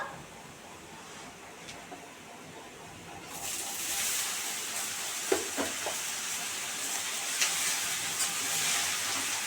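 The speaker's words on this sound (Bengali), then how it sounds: "এবার আমি নেনুয়াটা দিয়ে দেবো" Ridge gourd is tipped into a wok of fried onions and hot oil, and a quiet background hiss swells into a broader steady sizzle with a few stirring clicks and pops.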